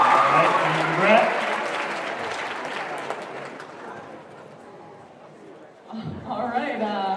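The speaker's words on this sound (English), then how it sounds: "I think Brett Perry deserves a huge round of applause, everybody" Audience at a 2014 improv comedy show breaks into loud applause and cheering for a performer, fading gradually before a fresh burst of clapping and voices near the end.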